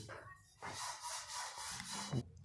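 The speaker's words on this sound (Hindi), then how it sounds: "दाल को हमने मैश करना है इस तरह से" Boiled chana dal lentils are mashed in a pot, giving rhythmic soft rubbing and scraping strokes close by, ending in a brief louder knock.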